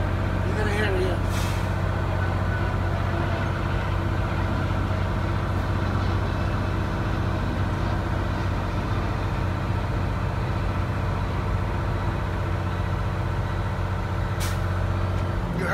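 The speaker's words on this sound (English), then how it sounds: "The governor for the compressor cuts off." A truck's air compressor governor cuts off with a brief air hiss, set against a steady, loud engine idle that runs the whole way through, with a short burst of hiss early on and another near the end.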